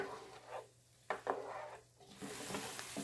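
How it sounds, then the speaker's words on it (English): Vegetables fry in a pan until they brown, with soft sizzling under a few clinks and scrapes of a spoon stirring them, quiet and close. "I'm just going to give that a stir until they soften up and get brown"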